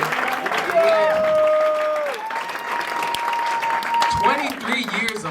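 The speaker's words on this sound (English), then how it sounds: "Y'all can clap some more for Peter." Audience applause and cheering for a comedian at a stand-up comedy showcase at Dad's Garage Theatre, a steady, dense clapping crowd with whoops and shouts layered over it for several seconds.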